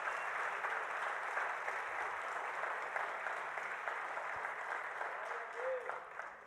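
A church congregation claps together in a steady, dense wash of applause that lasts throughout at a moderate distance, with faint voices mixed in.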